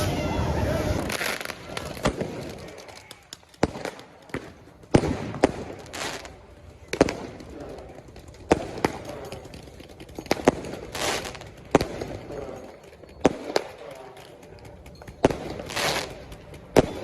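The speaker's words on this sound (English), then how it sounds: "it's super illegal when they throw fireworks" Fireworks thrown at police during a protest burst in a rapid irregular series of sharp loud bangs and pops, close by, with crowd noise and shouting in between.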